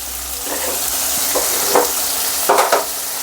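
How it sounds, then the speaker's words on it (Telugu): Tomatoes frying in a pan with turmeric and salt for a home-cooked chicken curry, a steady sizzle broken by several stirring scrapes, close and alone without talk. "టమాటాలు వేగాలంటే కొద్దిగా పసుపు కొద్దిగా ఉప్పు వేసుకోవాలి."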